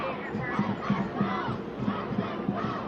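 A crowd of several hundred protesters on a university campus chants in rhythmic bursts of loud massed voices, with repeated surges of shouting.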